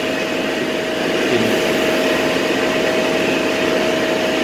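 An air curtain burner used in postfire recovery blows a loud, steady roaring rush of air with a constant mechanical drone and a slight swell partway through, with no talking.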